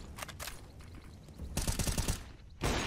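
Gunfire in Counter-Strike: Global Offensive, with a few sharp shots early on, then a dense burst of rapid fire and another loud burst at the end, no voices over it.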